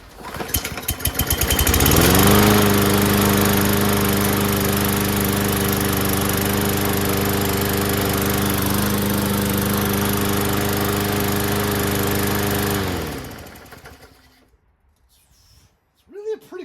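A Homelite weed trimmer, a free curb find fitted with a new carburetor, fires up after priming and runs loud and steady for about ten seconds with a harmonic two-stroke drone, then shuts off and winds down to near silence.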